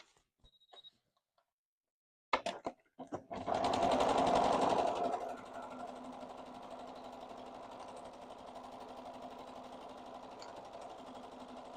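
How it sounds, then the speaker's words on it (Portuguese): A domestic sewing machine runs a wide zigzag stitch around the outline of patchwork Christmas pieces. A few clicks lead into a loud, steady mechanical whir that settles into a continuous, even hum up close. "Já vou passar aqui um zigue-zague graúdo na minha máquina."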